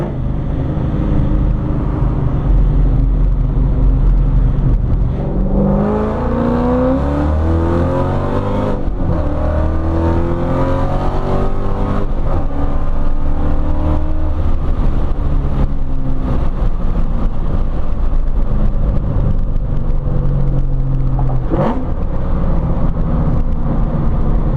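A 2005–2009 Ford Mustang with an aftermarket exhaust pulls hard under acceleration, its engine note climbing through gears with a loud close rumble, heard from inside the car.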